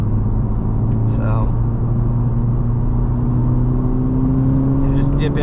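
A Honda Civic Type R turbo engine pulling under boost: a loud, continuous cabin drone with steady low rumble and rising engine tones, while a voice speaks briefly over it.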